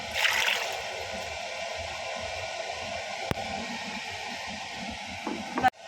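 Tomato sauce or concentrated tomato paste pours into a pot for couscous, a steady wet stream and trickle running throughout at moderate level, with a brief splash near the start and a small clatter at the end.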